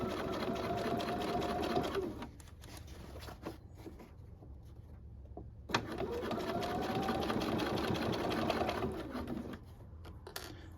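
A sewing machine stitching a jeans hem, a fast steady needle whir close up in two bursts of a few seconds each, separated by a quieter pause with light handling sounds.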